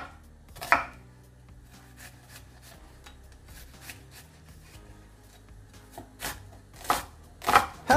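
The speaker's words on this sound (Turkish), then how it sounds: "Soğanı hemen yemeklik doğruyoruz" A knife chops a medium onion on a cutting board in scattered bursts, sharp close taps with quiet pauses between, picking up into quicker strokes near the end.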